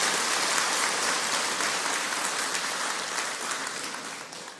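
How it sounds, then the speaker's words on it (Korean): An audience at a talk breaks into dense, sustained clapping that slowly tapers in loudness over several seconds, with no voices over it. "그럼 박수 한번 치시죠"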